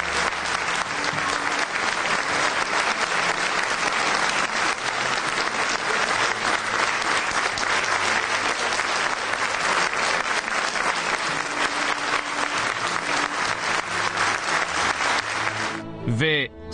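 Sustained applause from a large crowd sends off a coffin draped in the Turkish flag after a memorial ceremony, dense steady clapping throughout that breaks off with a brief voice at the very end.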